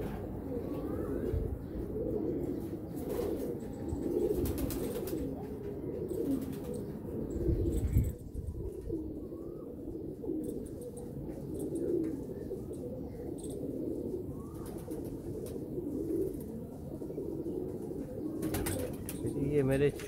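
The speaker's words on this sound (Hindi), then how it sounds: "ये मेरे चूहे कबूतर है सियालकोटी," Sialkoti pigeons coo softly and repeatedly close by in a loft, their low throaty calls layered over one another amid background noise and occasional rustling or flapping.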